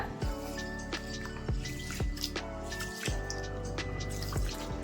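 Water sloshes and drips in a bowl as grains are swished around, with soft repeated splashes and trickles, quiet and close.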